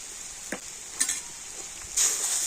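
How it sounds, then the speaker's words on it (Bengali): Frying food in a pan with chaat masala and roasted spice sizzles in a steady hiss while a utensil stirs it, making a few scraping clinks; no one speaks. "এই চাট মশলা ভাজা মশলা দিয়ে আবারও সব কিছু একটু নাড়াচাড়া করে নেব।"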